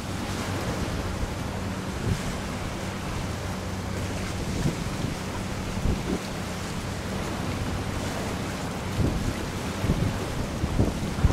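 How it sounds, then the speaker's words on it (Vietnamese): A small Vietnamese sea fishing boat out in a storm, pounding through big waves while strong wind buffets the microphone; continuous roaring surf and rushing gusts with scattered thumps of water against the hull, no voices. "Bão như vậy mà chiếc ghe biển này vẫn ra khơi các bạn."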